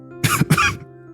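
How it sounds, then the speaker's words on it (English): Two sharp, harsh dry coughs follow one another, close and fairly loud, with no talking, like a short coughing fit from someone sick and contagious. "I suddenly burst into a dry coughing fit."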